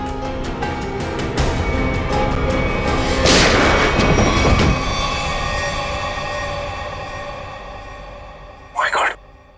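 A gunshot in a TV crime drama, heard as a heavy boom that swells through a dense, loud soundtrack and then trails off, with a short burst of noise near the end.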